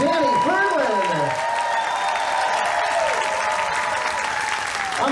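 Loud sustained audience applause and cheering for the drummer at a tribute concert aboard a cruise ship, steady throughout, with the announcer's voice rising over it at the start.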